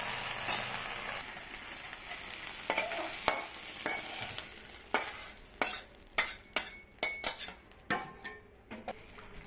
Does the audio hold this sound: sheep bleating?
no